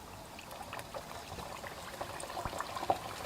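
Layered leavened flatbread dough frying in hot oil over medium heat gives a faint, steady bubbling crackle with scattered small pops, and no one speaks.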